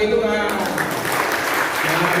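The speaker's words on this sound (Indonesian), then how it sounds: "Tepuk tangan bagi Tuhan." A church congregation applauds during a sermon, giving praise to God. A voice is heard briefly at the start, then steady, close applause fills the rest.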